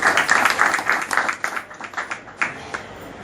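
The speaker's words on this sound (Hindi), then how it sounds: "कामिनी शुक्ला, कामिनी शुक्ला, बरखान सिंह के लिए तालियां।" Audience at a ceremony claps in a moderate burst that tapers off into scattered, uneven claps, heard at middling distance without speech.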